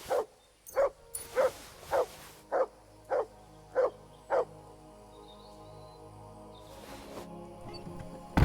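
A dog barks in the video game Kingdom Come: Deliverance II, eight sharp evenly spaced barks in a steady run over the first four and a half seconds, then a low ambient game hum with no voices.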